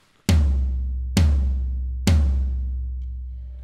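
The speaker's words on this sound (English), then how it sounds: "This big guy down here is called a floor tom." Floor tom drum hit three times at an even pace, each stroke a deep booming thud that rings out and slowly decays before the next, close and loud with no voices.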